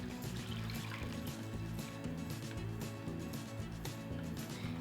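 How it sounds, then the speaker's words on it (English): Ice cream mixture poured into a Ziploc bag, a soft continuous trickle and glug of thick liquid close by, faint beneath steady background music with a repeating beat. "take our ice cream mixture and go ahead and pour it in there"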